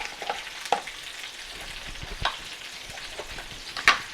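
Chopped peppers sizzle and fry in a skillet for homemade tomato sauce, a soft steady crackle with occasional louder pops and stirring clatters, heard close with no talking.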